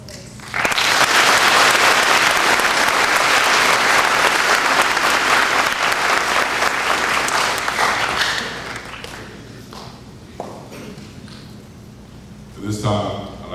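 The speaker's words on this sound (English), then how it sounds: "let's give them a round of applause for their service" An audience applauds at a school Patriot's Day ceremony, with loud, sustained clapping that fills the room for several seconds before fading, and a voice briefly heard near the end.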